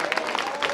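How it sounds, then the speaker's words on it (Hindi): Audience applause at the 8th annual function of Mithilanchal Pride Public School, a short, steady burst of many hands clapping together at moderate loudness. "मैं इनको धन्यवाद देती हूँ, इनके लिए जो ताली आप लोग दीजिए।"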